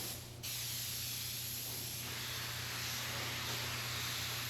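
A paint spray gun fed by a small air compressor at about 43 psi gives a steady, fairly quiet hiss of atomizing spray, continuous and unbroken, with a low hum underneath and no talking.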